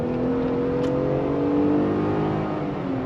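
A Jeep Gladiator Rubicon with a V6 and 8-speed automatic, fitted with 37-inch tires and no lift, drives steadily, its engine hum and tire drone constant and close with no talk.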